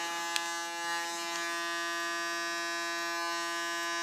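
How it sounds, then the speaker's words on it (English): An electric hair clipper buzzes steadily and close, run through hair as a comb to even out a woman's extreme short cut, holding a constant hum with a brief click near the start. "Use my clipper as a comb, so I can get a nice same length pattern."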